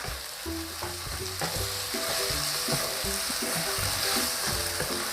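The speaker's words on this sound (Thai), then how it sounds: "ซีอิ๊วขาว และซอสหอยค่ะ แล้วก็ทำการผัดคลุกเคล้าเลยนะคะ" Glass noodles stir-fried with soy sauce and oyster sauce sizzle loudly and steadily in a hot pan, with repeated scraping and tossing strokes throughout.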